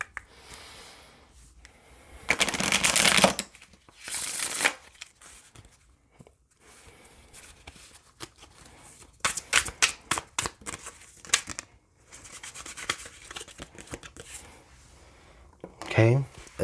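An oracle card deck from the Twin Flames of Love set by Mystic Moon is shuffled by hand in several short bursts of riffling and flicking, with quieter handling and breathing in between.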